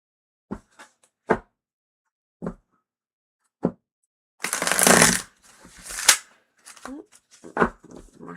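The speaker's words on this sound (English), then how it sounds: "More shuffling." Tarot cards being shuffled and handled during a live reading: a few short separate riffles and snaps at first, then a longer burst of dense shuffling followed by more scattered card flicks, close and crisp.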